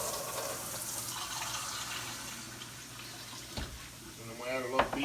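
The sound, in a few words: water poured into a pan for liver gravy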